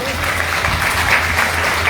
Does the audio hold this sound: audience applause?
yes